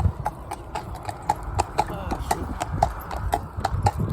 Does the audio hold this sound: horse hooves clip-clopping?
yes